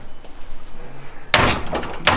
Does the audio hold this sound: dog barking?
no